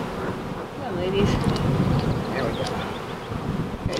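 Honey bees buzz steadily all around an active hive, a dense close droning hum with a few individual bees whining past, and some faint wind.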